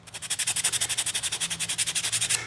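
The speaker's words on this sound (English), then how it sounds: "I'm sanding with the grain. And this cedar is really soft wood." Rhythmic back-and-forth sanding strokes with the grain on soft cedar, quick and even, close up with a dry rasping texture and no talking.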